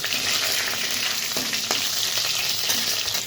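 Chopped ginger and spices such as bay leaf fry in hot oil for a tempering before moong dal is added. A steady, close sizzle crackles throughout, with faint stirring clinks and no talking.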